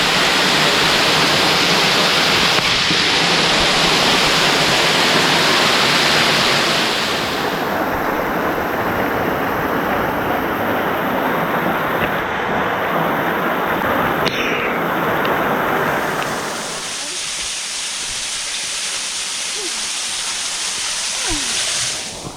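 Twin Falls waterfall in Pisgah National Forest roars as a loud, steady broadband rush of falling water, close and continuous throughout, shifting slightly in tone partway through with no voices.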